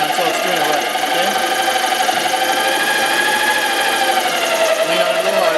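A hand drill fitted with a cutter bores a circle into a metal bracket, a loud, steady whining grind with shifting tones that runs continuously.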